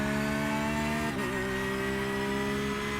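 A Porsche GT3R race car engine at full throttle on the straight at Imola in iRacing, a loud sustained high-revving drone with a brief dip at a gear change before the pitch climbs again.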